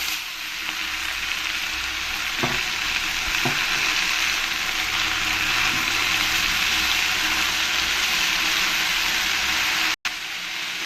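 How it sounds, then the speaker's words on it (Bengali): Jute leaves fry loudly with browned garlic and green chili in a pan, making a dense continuous sizzle with a couple of stirring scrapes early on and a sudden cut near the end, with no speech. "এই পাট শাকগুলোকে দিয়ে ভালো করে আমি রসুন আর কাঁচা লঙ্কার সঙ্গে মিশিয়ে নেব"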